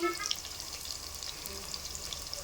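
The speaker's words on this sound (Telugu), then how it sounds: "ఒక నాలుగు పచ్చిమిర్చి వేస్తున్నామండి వేగిన తర్వాత" Four green chillies fry in hot oil in a pan with a soft, steady sizzle. A faint sound near the start may be a voice.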